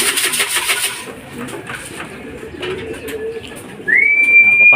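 Racing pigeons returning to a loft during a club fun race, with wing flutters and soft cooing amid outdoor ambience, followed by a sustained steady whistle-like tone near the end.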